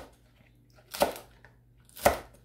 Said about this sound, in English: we'll cut it in nice pieces